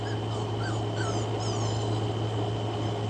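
A tiny puppy around four or five weeks old whimpers, making a few thin, high rising whines early on, faint under a constant steady hum and hiss, no talk.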